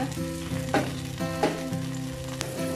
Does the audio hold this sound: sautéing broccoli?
yes